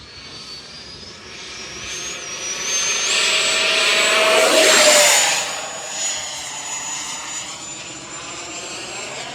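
FMS F-18 70mm EDF radio-controlled model jet taking off with flaps deployed, its ducted fan spooling into a loud high whine that builds, peaks as it passes close by, then eases slightly as it climbs away.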